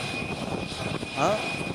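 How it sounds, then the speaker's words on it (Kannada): A Tejas fighter jet flying during a rehearsal at the Aero India 2025 air show, a continuous roaring engine rush at moderate distance, steady with a slight swell, over a constant background hum. "ನೀವು ನಮ್ಮ ಸ್ಕ್ರೀನ್ ಮೇಲೆ ನೋಡ್ತಾ ಇರೋದು ತೇಜಸ್ ಯುದ್ಧ ವಿಮಾನ"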